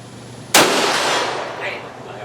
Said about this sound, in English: First shot out of this rifle.